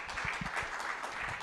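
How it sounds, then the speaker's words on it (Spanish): Audience applause welcoming a guest speaker at a conference, a brief burst of quiet, distant clapping. "Un aplauso les pido,"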